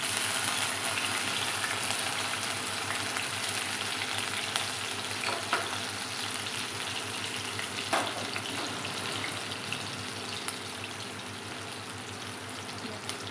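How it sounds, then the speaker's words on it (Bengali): Chopped green chili fries in hot oil for a gondhoraj pasta, making a steady, dense sizzle that runs close and continuous, with occasional small pops and stirring scrapes and no voices. "তেলটা গরম হয়ে গেছে, তো ওর মধ্যে একটুখানি লঙ্কা কুচি,"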